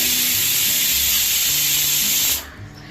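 Potatoes boiling hard in a pot, a loud steady hissing roar of steam and bubbling that drops off abruptly near the end.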